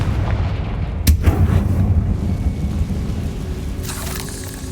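A blasting-spell explosion in Hogwarts Legacy, cast as Confringo, gives a sharp loud burst followed by a heavy rumbling boom and a low roar that keeps going under the game's ambience.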